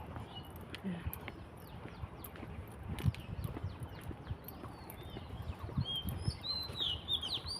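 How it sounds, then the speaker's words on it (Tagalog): Scattered bird chirps and tweets, fairly faint, in a park over a busy outdoor background with occasional clopping and low rumbles; no talking. "May mga ibon. Huni ng mga ibon."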